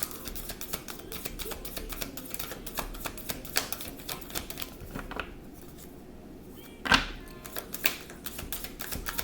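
A deck of tarot cards is shuffled by hand nearby, giving quick, soft, irregular clicks and riffles at a faint level, with a brief pause midway.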